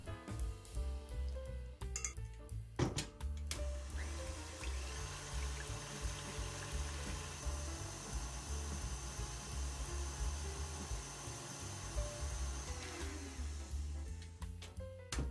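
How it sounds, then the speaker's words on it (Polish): An electric hand mixer whips chilled cream with powdered sugar, whipped-cream stabilizer and vanilla extract, giving a faint, steady whirring drone for about ten seconds between soft knocks at the start and end. "Ubijamy."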